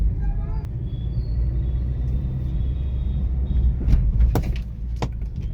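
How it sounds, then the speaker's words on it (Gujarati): A 2019 Hyundai Creta 1.6 SX petrol manual with 40,100 km rolls over a speed breaker, its low engine and road rumble steady throughout, with a few faint thuds and knocks from the suspension partway through and a voice talking over it. "હવે તમને અહીંયા સ્પીડ બ્રેકર ઉપર સસ્પેન્શનનું ફીડબેક દેખાડી દઉં."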